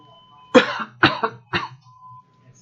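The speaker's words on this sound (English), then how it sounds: "How's that cough going for you, buddy?" Three harsh coughs in quick succession, close and loud, followed by a faint throaty rasp, at a Star Wars: Destiny card game national championship final.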